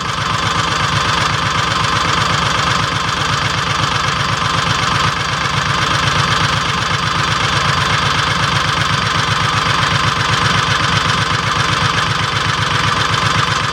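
Kawasaki Mule 3010 utility vehicle engine idling steadily during carburetor adjustment, a loud, close, even low throb with a constant rhythmic pulse and no talk.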